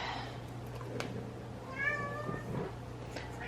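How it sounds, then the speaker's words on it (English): A cat meows once, clearly but at a distance, in a home kitchen where sourdough bread dough is being mixed, with a low steady background hum and a few light clicks. "Apologize about the meowing cat in the background"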